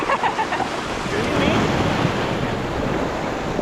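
Ocean waves and surf at sea heard from aboard a boat, a steady loud wash of water with strong wind buffeting the microphone throughout.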